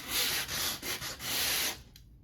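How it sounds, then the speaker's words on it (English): Sanding the white space on a canvas painting by hand, a close rhythmic scratchy rubbing in a few quick back-and-forth strokes that stops abruptly near the end. "And so there's a slight sanding that has occurred."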